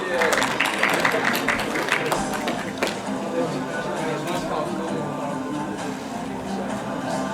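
Clapping audience at a certificate ceremony, dense and loud at first, then settling into steady continuous applause.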